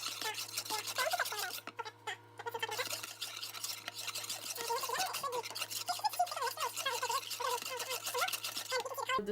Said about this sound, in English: now it's time to whisk it all together